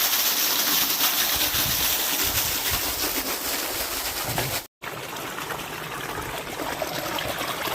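Water rushes steadily from a partly opened valve, a continuous broadband gush that stays loud and close throughout, broken only by a sudden brief cut near the middle.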